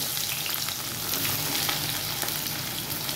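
Onions sizzling steadily in hot oil with cloves, small cardamom and cumin for a desi egg masala, a continuous close frying hiss with light stirring and no talking.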